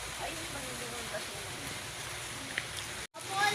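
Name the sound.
rain falling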